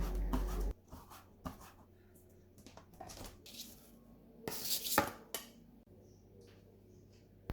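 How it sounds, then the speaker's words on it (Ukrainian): A knife chops a small bunch of wild garlic and a bunch of parsley on a board in irregular clusters of close, crisp cuts, separated by quiet pauses. "Наступною нарізаємо зелень. Нам знадобиться невеличкий пучок черемші і пучок петрушки."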